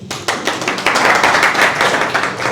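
An audience claps steadily for a ninth-grade schoolgirl at an interactive session, a dense and loud run of applause that continues unbroken without talk.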